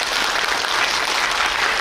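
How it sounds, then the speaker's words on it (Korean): A cinema audience at a film Q&A for the Korean movie Harbin gives sustained, dense applause, a broad wash of many hands clapping at an even level with no speech on top. "박수 한번 보내주세요, 여러분."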